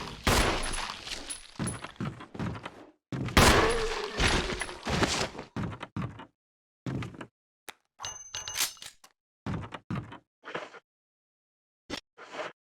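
Handgun shots in the video game Resident Evil REmake, a string of sharp close cracks with metallic pings, dense at first and then thinning to spaced single shots separated by silence.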